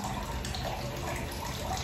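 Tap water running steadily into a sink while dishes are washed, a brief, close, continuous splashing stream.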